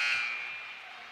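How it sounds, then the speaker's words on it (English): End-of-quarter buzzer at a women's college basketball game, one sustained electronic blare that holds for about a second and slowly fades, with no talk over it. "Franklin rejected by Giddy at the buzzer."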